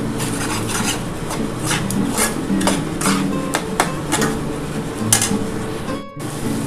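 Capsicum fried and stirred in a pan for chilli prawn, steady sizzling under repeated scraping strokes of a spatula, close and fairly loud, no talk.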